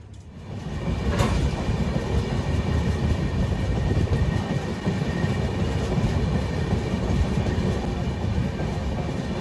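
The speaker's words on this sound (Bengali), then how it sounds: "প্রায় 40 মিনিট পর ট্রেন অবশেষে ছাড়লো।" A passenger train on the line toward Kanthi rolls along with a loud, steady rumble and faint clatter from the carriages, heard from on board with no talking.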